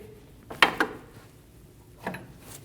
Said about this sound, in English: Using a 24mm wrench, we're going to break the jam nut free.